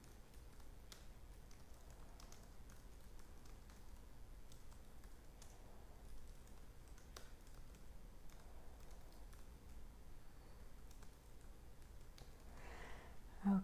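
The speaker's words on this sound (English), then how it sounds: "Type in my name." Someone types a name on a computer keyboard, producing a steady run of faint, close key taps with no talking.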